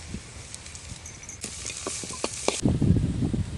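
Onions, garlic and curry leaves sauté for a village-style fish curry, with light sizzling and scattered spatula taps and scrapes that grow into louder, busier stirring near the end.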